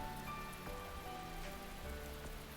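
Steady rain falls in the visual novel game Fruit of Grisaia, a dense, even patter on surfaces that stays soft and continuous, with no voices.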